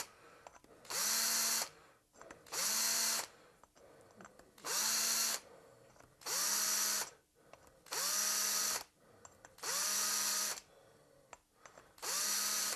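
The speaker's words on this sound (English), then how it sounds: "I give them a little bit more chamfer because there will be a M4 thread in them" A power drill chamfers and deburrs holes in a part for a rotary vane air compressor, running in seven steady bursts of about a second each, with short quiet gaps between them.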